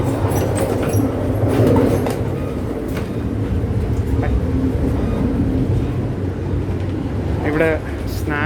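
A passenger train running from Toronto toward Niagara Falls rumbles with a steady rolling roar and faint clicking of the wheels, heard from inside a carriage. Quiet cabin noise and occasional background voices sit underneath.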